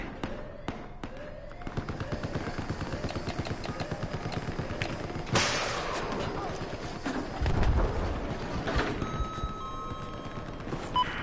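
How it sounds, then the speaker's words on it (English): Rapid cracks of DMR rifle gunfire in the video game Battlefield 4, repeated sharp shots over a busy battlefield din, with a louder burst midway and heavy low rumble later. "I'm getting shot at by a DMR"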